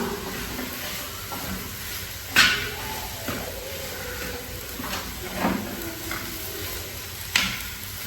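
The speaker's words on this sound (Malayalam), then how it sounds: "തേങ്ങ നല്ലോണം അതിൽ മിക്സായി കുറച്ച് വെന്ത് വരുന്നത് വരെ നമുക്ക് ഇളക്കി കൊടുക്കാം" Grated coconut and banana mixture being stirred in a pan, with soft scraping strokes and occasional louder spoon knocks against the pan over a quiet background.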